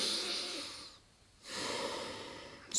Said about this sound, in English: Breathe, breath.